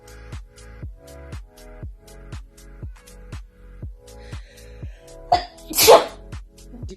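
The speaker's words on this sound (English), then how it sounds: "I'm gonna sneeze." A woman gives one sharp, loud sneeze close up near the end, after a regular series of soft, rhythmic pulsing knocks.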